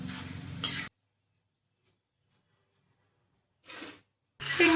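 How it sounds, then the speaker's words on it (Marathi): Peanuts frying in hot oil in a pan for a chivda snack sizzle loudly at the start, fall silent for nearly three seconds, then return in two short bursts of crackling near the end. "शेंगदाणे पण आपले छान तळणं झाले, काढून घ्यायचे आहेत."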